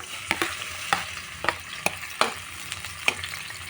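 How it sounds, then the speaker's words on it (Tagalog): Onions sautéing in oil in a pan for ginisang mongo, a soft sizzle broken by sharp, evenly spaced scrapes and taps of a spatula stirring them, close and clear. "maggisa na tayo unahin natin ang sibuyas"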